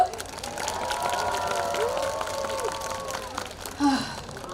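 Fairly faint audience applause for the performers of a university rock band concert, a steady wash of clapping from a distance with voices mixed in.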